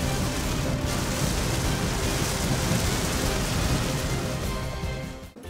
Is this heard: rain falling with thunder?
yes